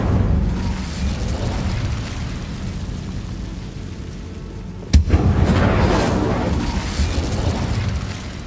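Incendio fire spell in the Hogwarts Legacy video game, a sudden sharp blast about two thirds of the way through, followed by a fuller crackling rush over a constant low ambient rumble.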